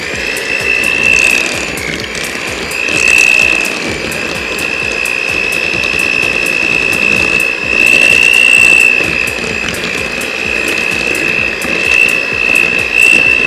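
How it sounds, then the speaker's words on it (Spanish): A power mixer beats egg yolks with cream cheese for a light raspberry cheesecake, a steady whirring drone with a high tonal whine that surges and eases in several waves, close and continuous with no talk. "me voy a batir las yemas con el queso crema"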